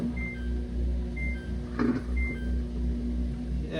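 A Samsung clothes washer, opened up and with an unbalanced load, runs with a steady low motor hum and faint chirping tones, plus a brief clunk midway; nobody speaks.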